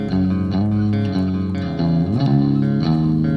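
A thick, buzzy electric guitar through a fuzz effect in GarageBand plays sustained notes with slides between pitches, loud and saturated with a fuzzy edge.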